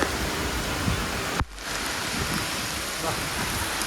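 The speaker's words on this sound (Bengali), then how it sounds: "বৃষ্টি যে পরিমাণে হচ্ছে" Loud, dense rain pours down steadily beside a stopped freight train in Murshidabad, a broad roaring hiss that briefly cuts out and then resumes just as heavy.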